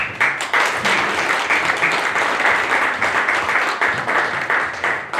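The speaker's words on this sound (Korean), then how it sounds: "뜨거운 박수 드립니다" An audience at a 2022 small-business network workshop in Jeollabuk-do, Korea, applauds warmly, a dense and steady roar of clapping that stays loud and even throughout.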